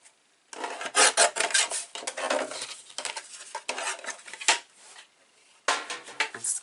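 Paper from a Graphic 45 pad being cut to size for a mini recipe box, heard as several bursts of close, dry rasping strokes separated by short pauses, with no talking.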